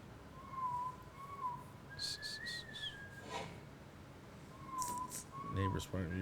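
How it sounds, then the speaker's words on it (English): Whistled melodic line from a song plays quietly in a room, with short tonal phrases and bright bursts of music, while people talk over it. "Whistle beat."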